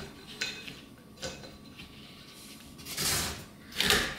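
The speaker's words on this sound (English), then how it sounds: "we're gonna do is disconnect the bottle" A fuel bottle being unscrewed from an MSR white gas stove, with a few soft metallic clicks and scrapes close by, then two short airy bursts like escaping pressure near the end.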